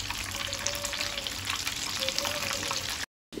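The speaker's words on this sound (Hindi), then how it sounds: "यहाँ पे आपने सुना ये चटर पटर की जो आवाज़ है, ये चीज़ को बाहर निकलने का सिंबल है।" Cheese balls deep-frying in hot oil give a steady crackling sizzle with fine bubbling pops, close and continuous, ending in a short silence.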